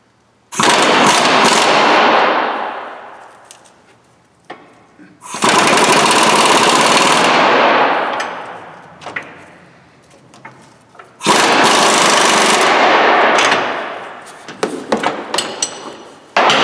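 An impact-style power tool tightening Ford Explorer control arm bolts, three loud rattling bursts of several seconds each that fade out, with quieter clanks and hammering between them.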